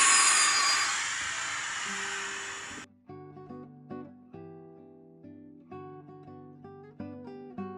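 LEGO Disney 71044 motorized toy train on its track, a steady rolling hiss that cuts off abruptly, followed by light clicking and mechanical tones from the stopped set.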